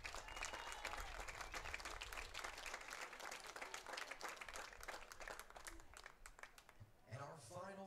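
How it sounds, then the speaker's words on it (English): Steady crowd applause fills the stands at a Georgia Southwestern softball senior day ceremony against North Georgia, holding for several seconds before a voice on the PA speaks over its fading end. "Please give one final GSW round of applause for number 12"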